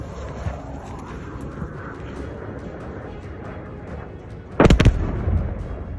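Cluster munition blasts land near Ukrainian forward positions: a steady low rumble of distant fire, then one sudden, loud, crackling burst near the end that rolls into a heavier rumbling tail.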